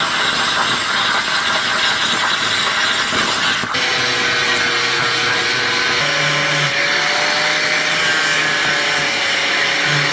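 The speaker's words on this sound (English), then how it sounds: "I'm just going to cut out a quick basic tab on the CNC real quick" A CNC machine cutting a small metal tab for a four-point harness bracket, loud and continuous: a steady roaring hiss with faint tones that shift partway through the cut.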